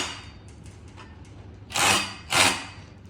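An electric drill drives screws during trampoline assembly, giving two loud whirring bursts close by against a quiet background.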